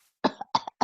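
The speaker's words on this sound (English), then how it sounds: "Coughing, gagging, sounds are heard." Three sharp coughs in quick succession, close and fairly loud, each with a short rough tail, with no talking.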